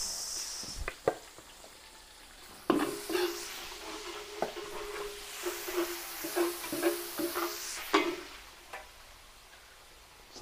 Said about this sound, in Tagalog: Gisa po tayo ng bawang.